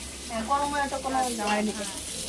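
Pointed gourd (potol) fries in a pan with a soft, steady sizzle heard beneath someone talking.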